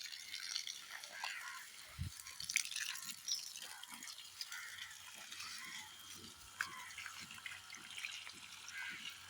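A battery-run, solar-powered 3D metal water pump with a 775 RPM motor moves water, giving faint, quiet trickling with irregular soft drips and splashes over low hiss.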